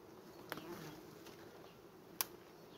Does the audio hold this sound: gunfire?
no